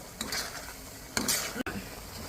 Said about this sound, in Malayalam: ഈ അരപ്പ് അടിക്ക് പിടിക്കാതെ ഇളക്കണം